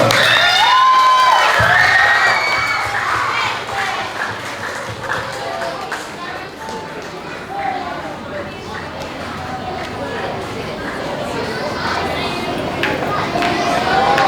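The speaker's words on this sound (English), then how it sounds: "Let's give her a round of applause." Audience applause and cheering at a school talent show, a dense, sustained crowd roar lasting the whole stretch with a brief tonal sound at the start, loud and close.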